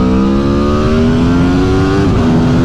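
A 2022 Aprilia Tuono V4 motorcycle engine revs hard up through the gears, loud and close, with a rising rasping howl and a brief dip at a shift before it climbs again.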